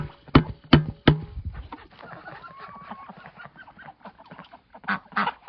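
Several loud flapping or pecking thumps, then a busy clamor of hungry chickens clucking close by as feed is given, with scattered squawks.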